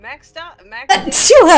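A person sneezes once, sharp and close, right after a short burst of excited talk during a tabletop role-playing game session.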